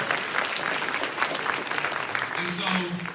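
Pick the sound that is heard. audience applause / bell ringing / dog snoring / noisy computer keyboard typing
audience applause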